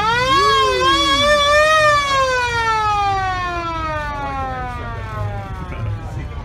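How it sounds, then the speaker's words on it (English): A loud wailing siren on a 1956 VW VolksRod ragtop sweeps up and down in long rising and falling tones, close by, with faint background noise and no talking. "It's complete with siren."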